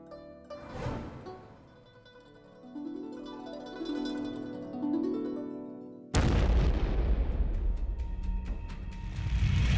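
Gunpowder mixture of sulfur, charcoal and potassium nitrate exploding, a heavy booming blast that bursts in partway through after swelling tones, followed by a broad, loud rumbling roar that sustains to the end.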